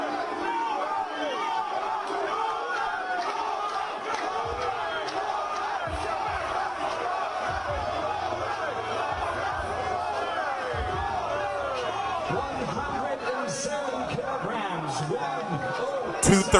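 Hostile crowd at the Fury vs Pulev boxing weigh-in: a dense, loud roar of shouting and jeering voices fills the whole stretch, with a few louder bursts near the end.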